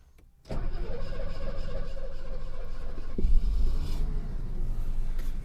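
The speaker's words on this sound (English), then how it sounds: "start it up on LPG" A Mercedes W126 running on LPG cranks and starts inside a garage, a short starter whir catching into a steady, close idling engine rumble with a slight rev bump partway through.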